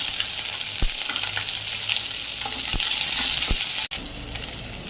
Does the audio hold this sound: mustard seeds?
yes